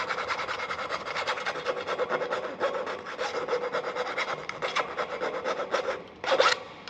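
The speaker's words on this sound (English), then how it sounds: "filing out the little holes." Metal file rasps out small holes in an old aluminium boat mast, left untouched for fifteen years, with quick repeated scraping strokes in a steady rhythm, close and fairly loud, ending with a sharper stroke.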